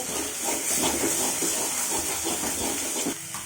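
Masala-coated fish with lemon, Kerala style, sautés in a pan, giving a dense, continuous hiss and steamy sizzle with faint stirring underneath, close and fairly loud, no speech.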